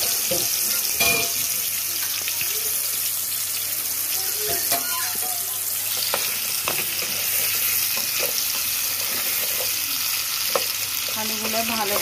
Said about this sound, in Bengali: তো আমি এখন আলুগুলোকে লবণ আর হলুদ দিয়ে ভেজে নেব।